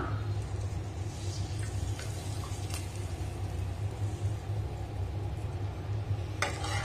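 Sizzling tempering poured into an ash gourd buttermilk curry (mor kuzhambu) gives a steady, close crackle and hiss with a few light utensil clinks, ending in a sharper scrape.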